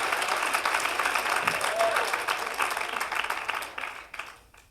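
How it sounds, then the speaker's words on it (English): Audience applause for a fearless volunteer at a keynote talk, a dense, continuous wash of clapping from a sizeable crowd that holds steady and then tapers off near the end. "Applause for her for being fearless."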